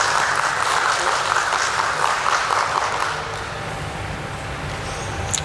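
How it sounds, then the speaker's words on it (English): An audience at a steel company's stock listing ceremony applauds to welcome a director on stage, steady dense clapping throughout that eases slightly in volume toward the end. "Please welcome him with a round of applause."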